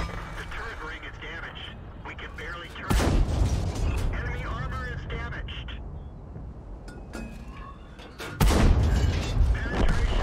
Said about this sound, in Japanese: 最後は中央の味方さんの援護射撃か